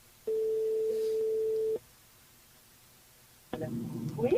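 Telephone busy tone on a radio call-in line after the call drops: one steady held beep lasting about a second and a half, then silence, then a burst of noisy line sound.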